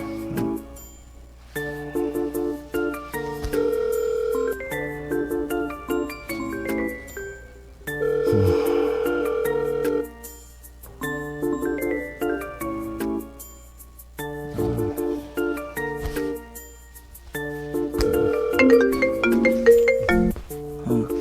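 A phone ringtone plays a repeating melodic jingle in several bursts with short pauses, fairly loud and close, with occasional faint noise between rings.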